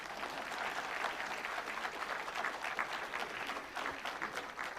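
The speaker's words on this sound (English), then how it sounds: "Can you please give us a round of applause?" A dense, steady round of applause fills a summit hall of food regulators, many hands clapping at an even, moderate level for about five seconds without letting up.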